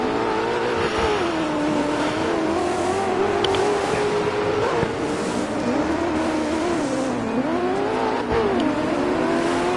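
A Ford Focus RSRX rallycross car racing in DiRT 4's Landrush mode, its engine droning loud and continuous with rising and falling revs through gear changes, tire noise faintly underneath.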